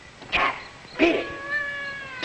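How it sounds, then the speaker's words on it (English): A cat gives three or four distinct meows close by, each a drawn-out wavering cry with short gaps between, from a 1954 Rocky Jones, Space Ranger episode. "Some cat woke me up."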